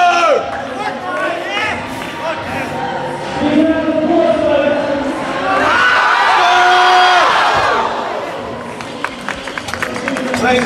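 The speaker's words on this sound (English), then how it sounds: "Come on, make some noise, he loves the noise." Crowd cheering and whooping at an IPF junior powerlifting squat competition in a hall, swelling to a loud peak midway with an announcer's voice talking over the noise throughout.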